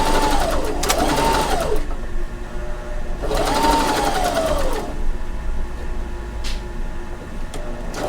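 Sewing machine zigzag-stitching a fabric face mask, two bursts of rapid whirring stitches with rising and falling motor pitch, separated by pauses with small handling clicks, close and clear.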